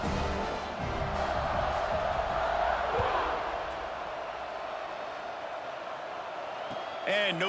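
A stadium crowd roars in an American football video game before a kickoff: a broad, sustained wash of cheering that swells briefly and then settles, with a commentator talking over it.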